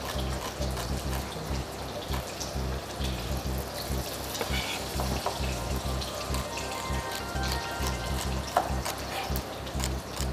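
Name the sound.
food sizzling in a frying pan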